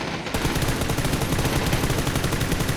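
Rapid bursts of automatic gunfire from a team shooter game fill the whole clip, loud and continuous after a brief quieter opening, with no voices over it.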